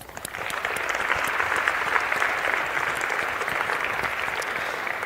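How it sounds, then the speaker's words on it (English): An affiliate-marketing conference audience applauds itself, a thick, even wash of clapping from a large crowd that starts at once and keeps steady throughout. "give yourselves a round of applause for coming here"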